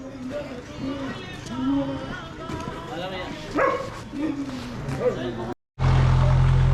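A dog barks a few times in the distance while people talk nearby, ending in a burst of loud rumbling noise.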